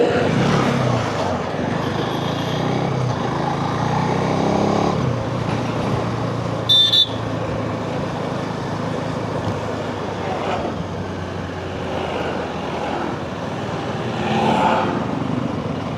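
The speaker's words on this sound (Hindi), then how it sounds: "नहीं गाड़ी आ रहा है।" On a mountain road in North Sikkim, a car's engine hums steadily and grows and fades as it approaches, with a brief sharp clatter midway.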